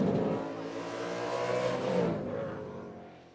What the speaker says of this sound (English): But Scaife responds, gapping Jones and cruising to his first V8 Bathurst victory.